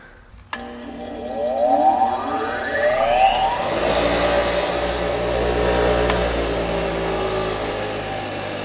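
A wire wheel on a power tool whines up to speed, then scrubs loudly and steadily against a thermostat housing from a 2001 GMC Sonoma 2.2L engine, close and harsh throughout.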